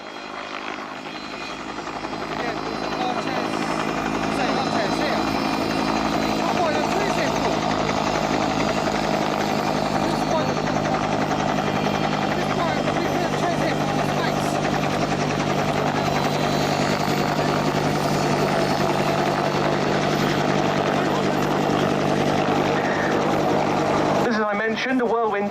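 A Whirlwind HAR-10 helicopter with a Gnome engine passes slowly at an airshow while simulating a winch operation, its loud steady rotor and turbine roar building in over the first seconds, then holding near and constant until it cuts out.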